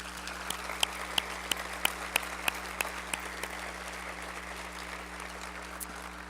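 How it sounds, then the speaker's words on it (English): Sustained applause fills a hall at a college salute to graduates, a broad steady clatter of many hands with regular louder individual claps punctuating it over a low hum. "Please join me in giving them a round of applause"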